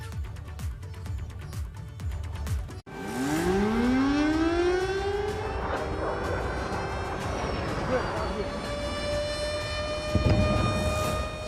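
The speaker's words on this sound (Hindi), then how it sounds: "फिर बज उठा आफत का सायरन।" An air raid siren wails in Ukraine, rising and then holding a long loud tone over a steady background rumble, with faint voices beneath.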